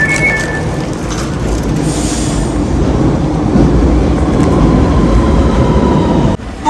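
A Barcelona metro train roars close by in a continuous loud rumble of wheels on rails, with a faint squeal early on and an abrupt cut near the end.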